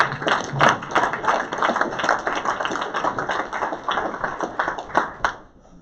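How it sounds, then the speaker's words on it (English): An audience at an Air Force pitch day media event claps together in a steady, crisp ovation of many hands, fairly close and holding even before trailing off abruptly. "Let's clap"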